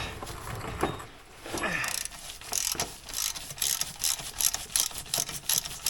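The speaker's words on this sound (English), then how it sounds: "Look at this rinky-dink freaking ratchet I'm using." A small hand ratchet clicks in quick bursts while removing a 4L60E transmission from a Sierra/Silverado, the close metallic ticking mixed with clanks and shuffling under the vehicle.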